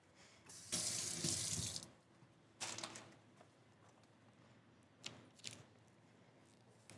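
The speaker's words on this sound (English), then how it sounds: "I'm gonna put some water there just to help" Water sprayed onto a car windshield during ceramic tint installation, a long hissing spray burst followed by two shorter sprays with quiet gaps between, fairly close and with no talking.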